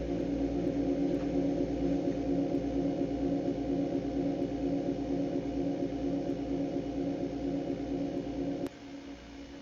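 A dense electronic track plays loud and steady throughout, its level held high until near the end, when it drops abruptly and quieter.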